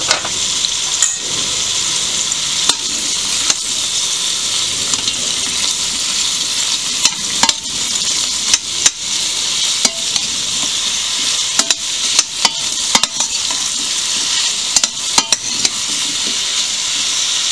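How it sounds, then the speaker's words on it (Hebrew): Red onion, sweet potatoes and peppers fry in hot oil, a loud, continuous sizzle with frequent clicks and scrapes of a utensil stirring the pan at irregular moments. "אני ככה מטגנת אותם כארבע דקות, מדי פעם כמובן שאנחנו בוחשים כדי שזה לא יישרף."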